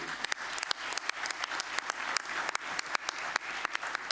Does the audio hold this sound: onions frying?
no